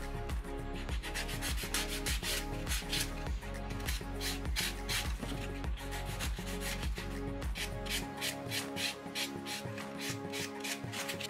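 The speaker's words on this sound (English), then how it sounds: "I'm gonna remove the shine with a buffer" A nail buffer works over a cured gel top coat to remove the shine, giving a steady rhythmic rubbing stroke that repeats evenly throughout and is heard close up with no talking.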